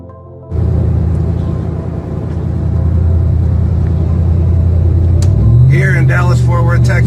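Car driving along Highway 183 in Dallas–Fort Worth, Texas, heard from inside: a steady, loud low road rumble throughout, with a voice speaking briefly near the end.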